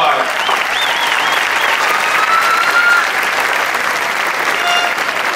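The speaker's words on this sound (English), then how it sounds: "That's worth some applause." Sustained audience applause at a high school commencement ceremony, dense and steady for the whole stretch, with faint cheering tones riding on top of the crowd's clapping.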